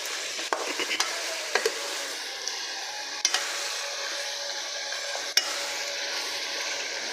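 Ginger garlic paste being stirred into frying meat for kadai gosht, with a steady sizzle of oil and a few sharp clinks of a spoon against the wok, close and alone.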